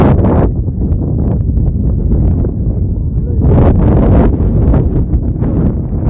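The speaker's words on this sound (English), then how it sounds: "Wind picking up." Wind gusts across an outdoor flag football game, a steady low roar buffeting the microphone throughout, with a stronger gust midway and faint voices underneath.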